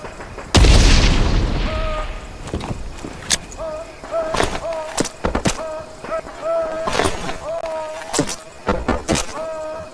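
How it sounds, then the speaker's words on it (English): A grenade blows up in the Vietnam-era shooter game Hell Let Loose: Vietnam, a single sharp boom near the start that tails off, followed by scattered clicks, thuds and mechanical game sounds. "Grenades are a powerful explosive item. Equip one now and throw it towards the enemies."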